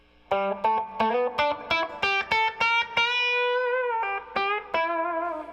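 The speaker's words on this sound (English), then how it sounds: "that reverb is just pure reverb running blended in parallel" Electric guitar with pure reverb blended in parallel with the direct signal, playing a quick run of picked notes and then a sustained ringing note, with a few more plucks at the end, loud and clear without talking.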